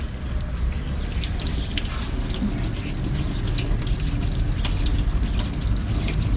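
Water splashes and trickles steadily onto a bottle, a continuous close pouring with scattered drips, no speech.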